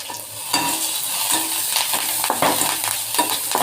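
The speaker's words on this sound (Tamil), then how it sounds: "வெங்காயம் நல்லா வதங்கட்டுங்க" Steady frying sizzle with occasional stirring scrapes and clinks from a pan, continuous and fairly close, with no talking.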